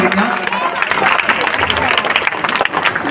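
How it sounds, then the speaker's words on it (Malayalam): An audience at a school anniversary celebration and new building inauguration applauds young kindergarten performers, a loud, continuous burst of many hands clapping close by, with crowd voices blended through it. "നമ്മുടെ ഈ കൊച്ചു പ്രതിഭകൾക്ക് നല്ലൊരു കയ്യടി കൊടുത്ത് നമുക്ക് സ്വീകരിക്കാം"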